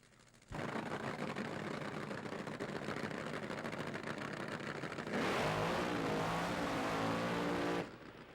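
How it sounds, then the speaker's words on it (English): Top Fuel dragster engines roar at the drag racing starting line at the 1982 NHRA U.S. Nationals in Indianapolis, a loud sustained rumble swelling to a harsher, heavier blast before cutting off near the end. "Top Fuel Eliminator, round number 2 is at the starting line."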